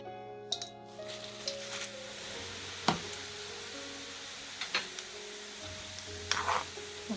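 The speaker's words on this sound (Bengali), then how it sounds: "তেলটা গরম হয়ে গেছে এখন এটাতে দিয়ে দিচ্ছি চিরাগুলো" Flattened rice (chira) fries in hot oil in a home kitchen, giving a soft continuous sizzle broken by faint scattered clicks and light stirring sounds, quiet throughout.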